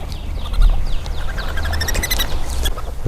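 Baby raccoons calling for their mother, a chorus of high, shrill chirps and squeals that repeat close by over steady low noise, with no talking.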